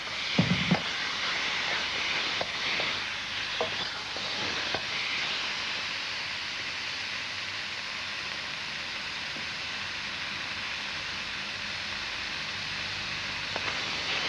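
Steady sizzling of marinated chicken stir-fried in a hot wok, with a few scraping and clinking sounds of a slotted spoon near the start, continuous and fairly loud.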